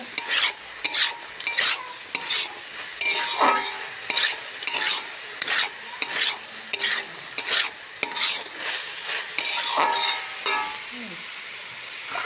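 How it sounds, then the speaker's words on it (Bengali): Bitter gourd stir-fried in a pan, a sizzle under rhythmic scraping and tossing strokes of a spatula repeating every half second or so, close and clear, no voices. "করলা ভাজি করে নিচ্ছি"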